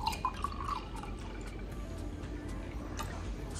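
Lemonade being poured into a glass, a thin liquid trickle with a few dripping splashes at the start, steady and fairly quiet for a few seconds with no talking.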